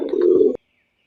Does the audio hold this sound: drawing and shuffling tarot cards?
no